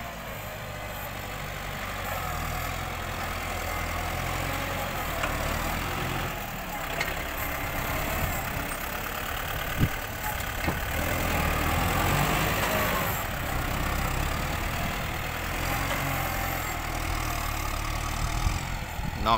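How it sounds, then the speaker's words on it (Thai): A tractor engine runs steadily through the whole stretch, a low rumbling drone with rough mechanical noise, heard near and fairly loud, on a muddy, sticky dirt road at a work site. "ขับรถไถก็ได้ครับ"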